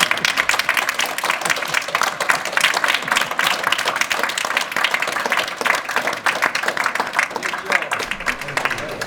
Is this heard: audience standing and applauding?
yes